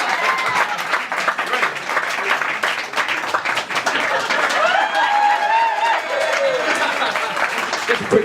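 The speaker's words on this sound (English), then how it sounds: "Can I get some clapping?" Audience applause at a live speaking event on a stage, steady dense clapping filling the whole stretch with some cheering and crowd voices mixed in, loud and close.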